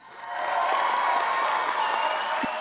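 A studio audience on a Kannada television comedy show bursts into steady, dense applause that swells within half a second and holds loud and even to the end, with no voices.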